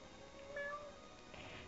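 A single soft kitten meow rises briefly in the middle, faint and high, over quiet room tone with no talking.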